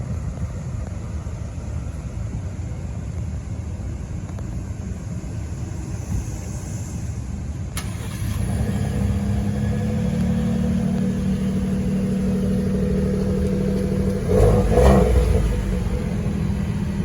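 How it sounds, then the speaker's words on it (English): A 2023 Ford F150 Lariat FX4 pickup fires up from cold about halfway through, its engine catching and settling into a steady, close rumble after a quiet stretch, with a brief rev surge near the end. "I'm gonna hop on in and give her a cold start."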